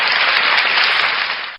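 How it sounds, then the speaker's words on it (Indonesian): Steady, dense applause from an audience at an Islamic religious talk, loud and continuous for the whole stretch before cutting off abruptly, with no speech over it. "Tepuk tangan buat Ustaz Daman"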